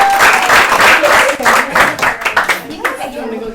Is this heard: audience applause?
yes